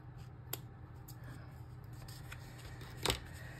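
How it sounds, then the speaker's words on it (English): Scissors trimming small fabric scraps for a junk journal craft: a few sharp, isolated snips spaced apart over a faint steady background hum, close and fairly quiet, with no voices. "I think I might do just a little bit of trimming here."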